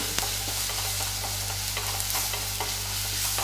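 Close, steady sizzling of curry leaves frying in a pan, a constant hiss with scattered crackles and a low hum beneath.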